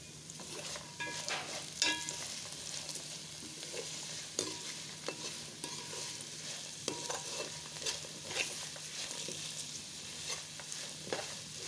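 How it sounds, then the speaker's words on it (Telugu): Onions fry in a pan for a poha mixture snack, a continuous sizzle broken by repeated scraping strokes of a spoon as they are stirred, close and fairly loud with no talking. "మధ్య మధ్యలో కలుపుకుంటూ వేయించుకోవాలి"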